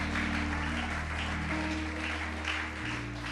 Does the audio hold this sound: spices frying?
no